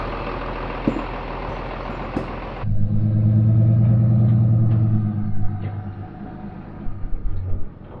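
A John Deere 4010 tractor with a leaking hydraulic pump pulls away, its engine rumbling in a low steady drone that swells, then fades and thins as it moves off into the distance.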